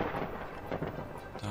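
Rolling thunder from lightning in the strategy god game The Universim, a broad continuous rumble with rain-like hiss, sustained and fairly loud throughout without speech.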